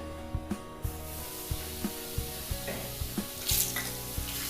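Semolina sizzles in hot ghee with a steady frying hiss, while a spoon scrapes and stirs in regular strokes over faint background music.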